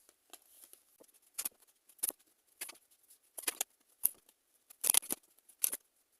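Tarot cards are handled in a quiet room, giving soft, scattered snaps and shuffling flicks in uneven bursts, close and faint with silence between them.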